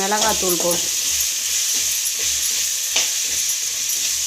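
Mango pieces sautéing with chili powder in a hot pan for a Tamil mango pachadi give a steady, close sizzle and hiss, with a few soft stirring scrapes and light clinks under a faint low hum.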